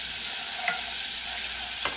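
Crushed garlic and minced ginger fry in hot oil with a steady, close sizzle, broken by two short stirring scrapes.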